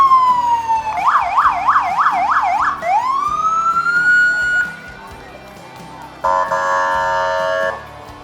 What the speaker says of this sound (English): when the sirens are right in front of us, we're going to be quiet